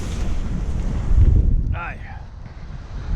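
A strong wind gust buffets the microphone aboard a sailboat, a loud roaring rumble that swells and eases with water sounds beneath and a brief voice partway through.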